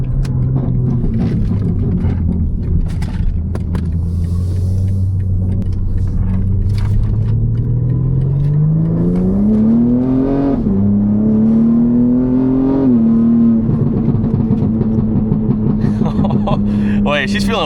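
BMW car engine rumbling and then revving up as it accelerates through a quick U-turn, the pitch climbing steadily before levelling off, heard from inside the cabin with a voice talking over it.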